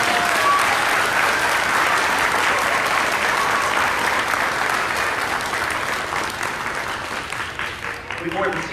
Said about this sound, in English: Once again, another round of applause, please, for these wonderful vets who are here with us.